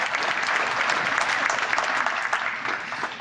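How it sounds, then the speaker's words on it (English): Audience applause at the Fitchburg Housing Authority's Wallace Tower groundbreaking ceremony: a steady wash of many hands clapping together, fairly loud and close, sustained without a break. "So come on, clap your hands."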